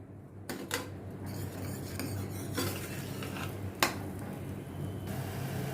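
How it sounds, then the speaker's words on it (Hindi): Onion, tomato and spices stirred in a pan while cooking chana dal fry, with a utensil scraping and clinking against the metal at irregular intervals over a low steady background hum, no voices. "इन सभी को अच्छी तरह से प्याज और टमाटर के साथ मैं मिक्स करती हूँ और अच्छी तरह से थोड़ा कुक करती हूँ"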